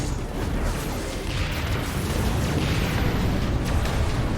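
Shoulder cannons fire with rumbling explosions during Final Fantasy XIV combat, a dense, continuous roar of booms and blasts filling the whole stretch.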